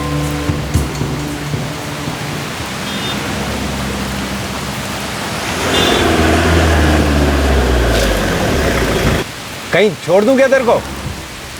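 Steady heavy rain pours down with rumbling thunder rolling in the middle, loud and close, while someone speaks over the downpour.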